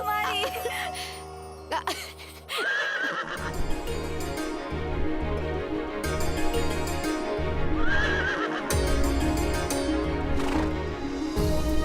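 A horse whinnies loudly near the start and again later, while hooves clip-clop in a steady rhythm with faint jingling. The sound resembles a produced soundtrack.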